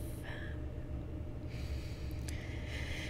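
During a guided meditation, a slow, deep inhalation draws in through the nose in two drawn-out hissing pulls, close and quiet over a low steady background hum.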